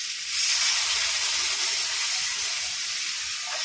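Water poured into a hot pan of scrambled egg bursts into a loud, continuous hiss of steam and sizzle that holds steady for a few seconds at close range.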